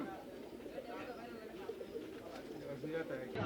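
Pigeons coo softly amid a busy pigeon market, with crowd chatter and voices filling the background throughout.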